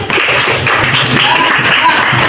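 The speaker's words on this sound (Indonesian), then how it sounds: "Oke, tepuk tangan." Classroom applause from students, dense clapping that fills the space close by, with voices mixed in.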